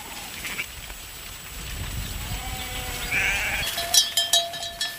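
Sheep bleat from a flock on a Manchega farm as a shepherd's dog herds them into line, several overlapping calls rising near the end over a low rustling outdoor background.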